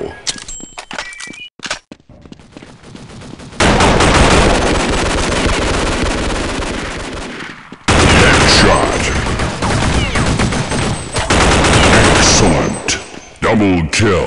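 Rapid weapon fire from a CROW-7 in Counter-Strike Online, loud and dense in two long bursts after a quieter opening of scattered shots and game sounds.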